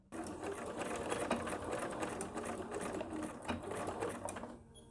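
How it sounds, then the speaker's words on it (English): Sewing machine stitching along the raw edges of a strap for a wallet at a quarter-inch seam, a continuous close rapid clatter of needle strokes for nearly five seconds before stopping. "Now sew along these raw edges at 1/4 inch seam allowance."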